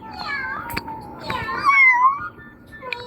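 A young child imitates a cat, producing a few drawn-out, rising and falling meow sounds up close, with brief clicks and a short gap between calls.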